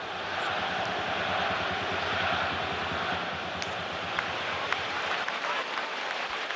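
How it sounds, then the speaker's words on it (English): Supporters in a football stadium applaud during a Borussia Dortmund versus Stuttgart match, a broad, distant roar of crowd clapping with a low rumble underneath, a few sharper claps standing out toward the end. "Yeah, the applause here as well from Klopp"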